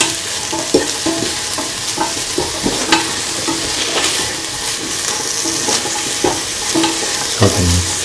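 Vegetables for a carrot and bottle gourd coconut milk stew sautéing in a pan, with steady sizzle and repeated scraping stirs from a spatula, close and fairly loud throughout.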